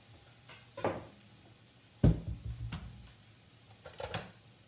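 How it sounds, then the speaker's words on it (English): Kitchen handling of a bowl and cookware during an enchilada beef-and-cheese filling prep: a few scattered clinks and knocks, the loudest near the middle, close and moderately loud with quiet gaps, no talking. "I'm going to grab a bowl to put this into rather than let it continue to sit in this hot pan"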